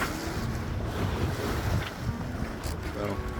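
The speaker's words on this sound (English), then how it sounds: "the waves are laying down a little bit" Ocean waves of about one to two feet wash against a Beneteau sailboat under way toward Key West, a steady broadband rush with wind buffeting the microphone throughout.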